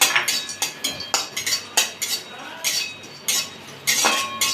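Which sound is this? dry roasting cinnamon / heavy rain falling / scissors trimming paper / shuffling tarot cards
dry roasting cinnamon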